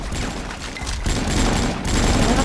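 Gunfire from the video game Avatar Star, a dense, continuous burst of rapid shots running loud throughout with a brief dip near the middle, and no talk over it.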